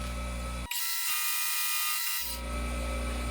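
A milling machine takes a trim cut on a Craftsman 1/2-inch flex-head wrench part, a loud high-pitched steady whine lasting about a second and a half over a constant machine hum.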